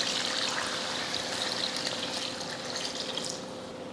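Water is poured from a tap or vessel into an eggplant curry cooking on the stove, giving a steady close trickling pour that runs for about four seconds with no talk.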